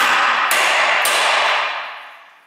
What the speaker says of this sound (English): So with these outside clips, what I like to do is just bash on them a little bit first.